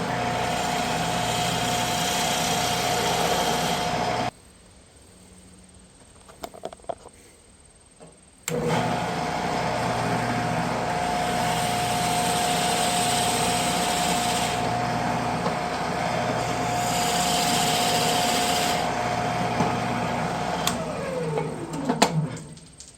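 Shopsmith multipurpose tool with fence and clamp locked, drilling a 5/8 inch hole, a steady high motor whine that stops briefly with handling clatter, then runs long and winds down with a falling pitch at the end.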